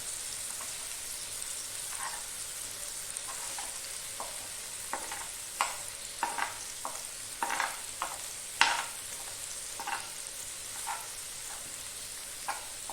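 Fish in a masala coating fries in butter in a pan, a soft steady sizzle broken by irregular scraping and tapping strokes of a spatula as it is stirred, busiest in the middle, no voices.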